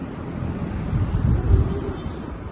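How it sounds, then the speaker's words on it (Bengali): Strong wind blows over open water, a rumbling roar buffeting the microphone that swells in the middle and eases toward the end, with no voices. "দেখো কি হাওয়া বেড়েছে হাওয়া"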